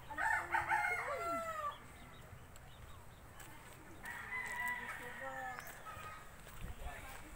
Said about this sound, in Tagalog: fighting cocks here owned by my relatives here in Bonbon.